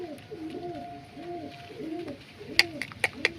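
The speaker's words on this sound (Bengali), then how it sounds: "এটা তো আমার খুব ভালো পায়রা, আমেরিকানটা আসবে।" Pigeon cooing in a rhythmic series of soft, low, repeated coos at close range, an American-breed bird in a home loft, with several sharp clicks or taps toward the end.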